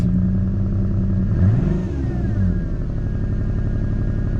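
A car engine with its check engine light on, idling after two years unused, runs rough with an uneven, lumpy rumble and a brief rev, close and loud.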